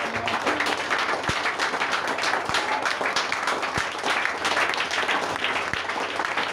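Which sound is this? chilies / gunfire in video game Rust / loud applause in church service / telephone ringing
loud applause in church service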